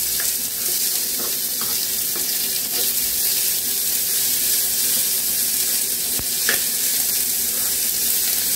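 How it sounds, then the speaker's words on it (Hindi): Steady sizzling of onions frying in a pan with ginger and garlic, with occasional scraping and stirring clicks over the constant crackle, no voices. "प्याज को हम अदरक लहसुन के साथ मिला के एक मिनट तक भून लेंगे"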